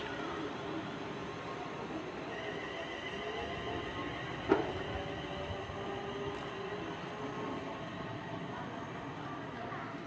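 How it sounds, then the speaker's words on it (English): A London Midland class 350 electric train pulls away from Coventry station, a faint, distant steady rail rumble and hum with a brief sharp clank partway through. "departing out now is 350-126, heading off to Birmingham New Street from Northampton by London Midland"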